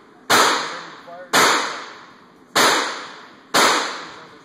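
Four sharp Glock pistol shots fired at a steady pace about a second apart, each a loud crack with a short ringing decay, close to the listener.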